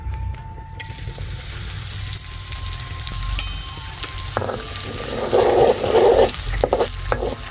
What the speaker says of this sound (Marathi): आता खोबरं लसूण चेचलेला, थोडीशी कोथिंबीर हे टाकून घेते.